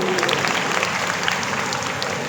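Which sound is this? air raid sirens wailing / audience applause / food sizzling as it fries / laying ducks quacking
audience applause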